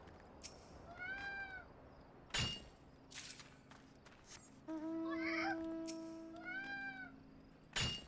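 A cat meows several times, rising and falling calls spaced apart in a quiet indoor room, close to the microphone, with a few soft knocks between them.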